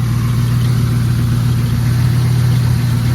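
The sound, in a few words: car engine idling with pump or belt noise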